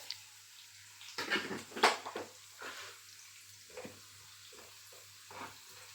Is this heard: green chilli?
yes